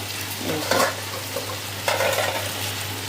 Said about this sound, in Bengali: এখন মশলাটা কষাচ্ছি।